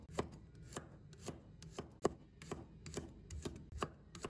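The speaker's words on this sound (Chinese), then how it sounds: "接下来我们准备一把大蒜， 把它切成片" A knife slicing a bunch of garlic cloves on a cutting board, a close series of crisp, evenly spaced chops in a steady rhythm, with no voices.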